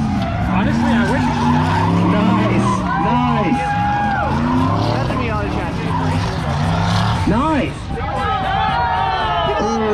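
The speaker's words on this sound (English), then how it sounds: "Vaughn, side by side drifted!" Cars drifting at a night drift event at the Freedom Factory, including a Miata, with loud tire squeals and skids that rise and fall in pitch over roaring engines, amid crowd chatter and people talking nearby.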